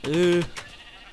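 A sheep bleats once in a survival video game, a loud, close, wavering bleat lasting under half a second before fading into quiet background.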